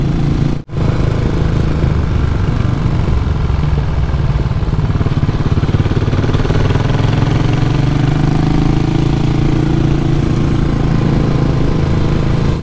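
A Cafe400 motorcycle with dual exhaust rumbles steadily while being ridden, a loud, continuous low engine drone with a brief cut near the start and a slight rise in pitch later on.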